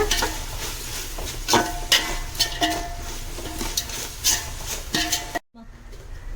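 Onions with ginger-garlic paste sautéing in a pot for mutton biryani, a soft sizzle under repeated spoon scrapes and clinks against the pan, with a person talking over it before a brief cut.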